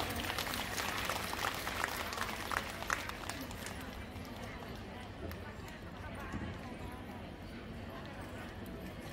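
Dense clapping from an audience at a Women's Day ceremony, welcoming a priest to the stage, a steady busy patter that thins out midway and continues more softly under a low hum of the room.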